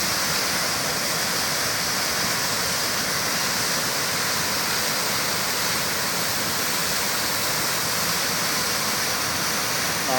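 Batu Kejong waterfall in Central Lombok roars as a loud, unbroken rush of falling water that fills the whole scene without pause.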